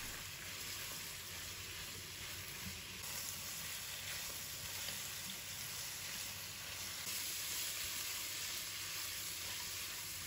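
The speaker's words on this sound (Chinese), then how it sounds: "把鸡肉倒入锅中，开大火给它爆炒，把里面的水分给它炒出来" Chicken pieces stir-frying in a wok over high heat to drive off their moisture, a steady loud sizzle and crackle running throughout with faint scraping of the stirring, and no voices.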